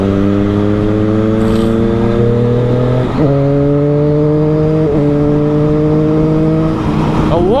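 Close, loud revving of a Triumph Street Triple R's three-cylinder engine, with steady harmonic tones that jump in pitch at gear or throttle changes around three and five seconds, running continuously throughout.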